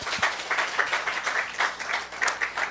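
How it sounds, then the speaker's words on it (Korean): A church congregation claps during a Sunday service at a Seoul church, a fairly soft, steady patter of many hands that holds for a few seconds with no voices on top. "우리 하나님께 박수 올려드립니다."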